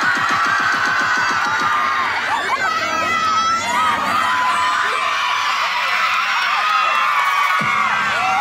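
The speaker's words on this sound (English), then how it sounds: "Billy, make some noise for Rocky in this one right now," A birthday crowd at a live performance cheers, whoops and shouts steadily throughout, loud and dense, with some children's shrieks and a beat-like pulse at the start.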